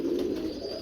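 A Chapry pigeon from an old bloodline gives a soft, low coo in one short, muffled phrase close by.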